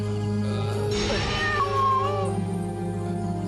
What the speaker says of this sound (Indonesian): Cuma ada kucing hitam di depan pintu.